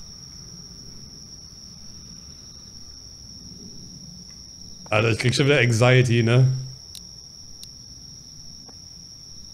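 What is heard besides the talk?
crickets chirping in a horror video game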